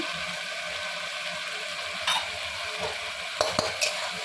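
Spices sizzle in a pan for a Bengali chitol fish curry in oil and chili, a constant hiss under a few sharp scrapes and clinks of a spoon against metal near the end, close up with no talking.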